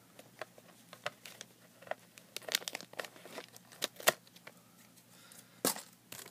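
Crisp crinkling and tearing of a thin plastic Lego Minifigure blind bag being cut open with scissors, sharp snips and crackles in irregular bursts, close to the microphone, no talking.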